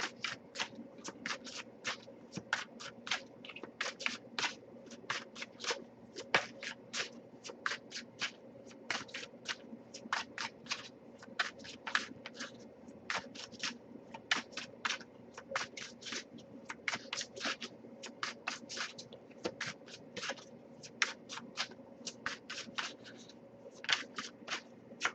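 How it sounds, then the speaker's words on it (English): Tarot cards being shuffled over and over, quick crisp riffles and slaps in a steady irregular rhythm, close and quiet, with no voices. "we'll give it a few more shuffles"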